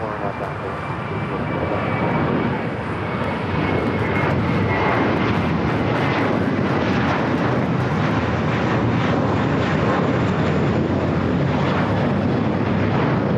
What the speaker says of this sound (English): Also have a 777 freighter lighting up, China Southern Cargo, flight 2588 heading to Shanghai.